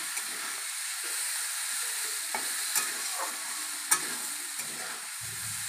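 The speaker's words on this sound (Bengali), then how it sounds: "হলুদ দিয়ে লবণ দিয়ে নাড়িয়ে নিচ্ছে" Vegetables with turmeric and salt being stirred in a frying pan, a steady sizzle and hiss with occasional soft scrapes of the spoon, close and continuous with no talking.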